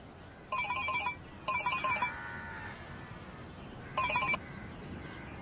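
A telephone rings in three short bursts of shrill electronic trilling, the first two close together and the third after a pause, loud against a quiet room.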